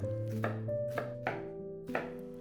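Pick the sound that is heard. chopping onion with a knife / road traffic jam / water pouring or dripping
chopping onion with a knife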